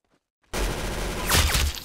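Gunfire in a mobile shooting video game starts suddenly after a brief silence, a loud, dense burst close up that swells into a harsher crack near the end.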